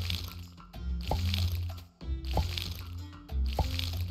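Water splashing in the farming video game Sun Haven, with a few soft watery drip-and-splash bursts repeating at an even pace beneath a low game music bed, fairly quiet and close.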